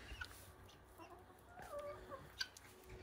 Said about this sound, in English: Hanging out with some chickens.